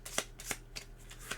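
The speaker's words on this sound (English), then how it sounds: "So let's shuffle up our cards." A deck of playing cards for the Crypt of Chaos board game is riffle-shuffled close up, giving a series of quick, crisp fluttering bursts in a steady rhythm.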